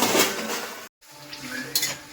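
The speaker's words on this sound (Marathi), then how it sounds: "भांडी धुवून पण झाली" Pots and dishes being washed in a home kitchen, with scattered clinks and clatters of metal utensils, close by and moderately loud, broken by a brief cut before more rattling.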